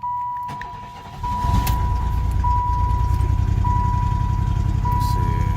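A car engine, just fitted with a new coolant sensor, turns over and settles into a steady, close idle. A thin dashboard chime repeats at regular intervals above the motor.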